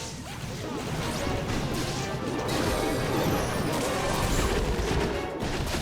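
Dense, continuous crashing and smashing from a log launcher rolling through defenses in a Clash of Clans battle, layered with whooshes and impacts at steady loudness.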